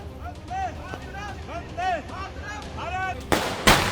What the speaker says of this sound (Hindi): पटाखे चलाए जा रहे थे